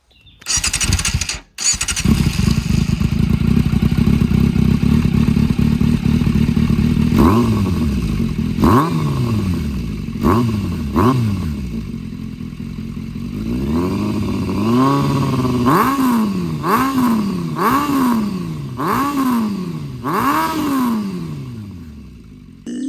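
A 2001 Yamaha FZS 600 motorcycle engine with an SC Project exhaust cranks and starts, then idles with a deep, raspy exhaust and is blipped repeatedly in sharp, loud revs.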